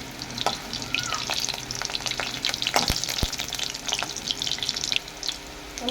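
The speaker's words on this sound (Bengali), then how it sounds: "পনিরটা লাল লাল করে ভেজে নিতে হবে" Paneer cubes frying in white oil in a pan for a potol paneer curry, a steady close crackling sizzle with scraping stir strokes and a few sharp utensil knocks, no talking.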